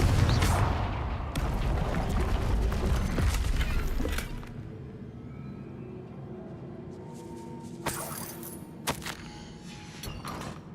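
Blasting-spell explosions in the wizarding game Hogwarts Legacy: loud, dense booms and crackling debris fill the first few seconds, then fade to a quiet room with a few sharp knocks and thuds.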